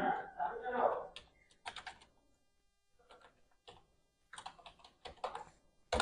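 Keyboard keys tapped out in short bursts of typing, entering a search into Facebook, with pauses between clusters of clicks; a voice speaks briefly near the start.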